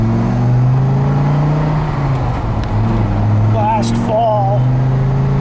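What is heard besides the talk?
1997 Dodge Viper engine accelerating through gears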